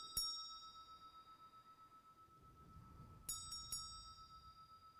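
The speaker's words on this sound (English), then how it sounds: "What happens when you listen to this bell?" A small sound-healing bell rings clear and high, struck once, leaving a long shimmering tone that hangs over a faint pulsing hum; three quick strikes follow near the end, each sustaining a bright tone.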